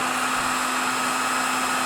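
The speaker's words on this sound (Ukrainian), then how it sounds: "Ось це все буду розігрівати. Спробую феном" A hair dryer blows continuously at close range, heating a moped front wheel hub, a steady whirring hum with a constant airy hiss, no pauses.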